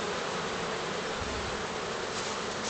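Black honey bees buzz in a dense, steady drone at an open hive during a spring inspection, a continuous close swarm hum filling the whole stretch.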